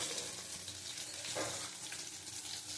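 Cumin powder sizzles in a pan for pea dal, a soft, steady crackling fry with brief stirring scrapes, faint and close with no talking.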